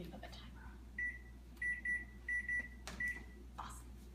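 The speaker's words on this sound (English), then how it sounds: "Let me put the timer on." A kitchen timer set while cookies bake gives a series of short, clear electronic beeps in irregular bursts over quiet room hum, with faint voices in the background.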